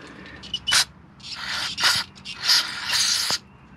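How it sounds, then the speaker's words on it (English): An aerosol can of brake cleaner sprays in several hissing bursts of a second or so each, close and fairly loud, with brief pauses between them. "now what you do is you take your brake cleaner"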